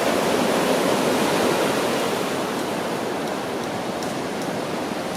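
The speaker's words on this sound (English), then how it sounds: "There's still some pretty big waves here." Big ocean surf pounds the shore at Mazatlan the day after Hurricane Norma, a steady, dense wash of breaking waves with no voices, constant and fairly loud throughout.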